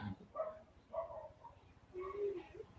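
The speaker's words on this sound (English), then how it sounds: "As the dog starts barking." A dog barks in three short, moderately loud bursts spaced about a second apart, with a quiet background between them.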